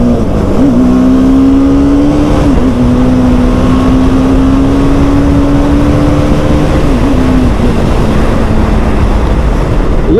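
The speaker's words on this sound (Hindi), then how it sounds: "बाइक भगाई जा रही है साथ में" Motorcycles speeding along together on a road, a loud steady engine drone with a sustained whining tone that dips and shifts a few times, heavy wind rush throughout and no talking.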